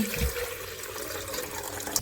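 Water poured out for homemade lemonade makes a steady splashing, gurgling flow for about two seconds. The pour is continuous and close by, with no one speaking.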